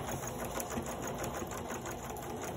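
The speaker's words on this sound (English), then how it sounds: "Now I'll just go back where I sewed it before" A sewing machine runs steadily, stitching ruffles onto a paper journal page, its continuous mechanical whir close and constant throughout without pauses or talk.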